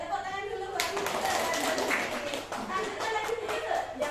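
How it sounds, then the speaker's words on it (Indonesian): A group of people in a school classroom break into clapping, with a burst of hand claps starting after a moment and continuing steadily under talking voices. "tepuk tangan dulu Mbak"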